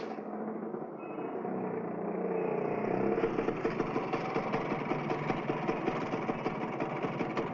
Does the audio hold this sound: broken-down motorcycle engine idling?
yes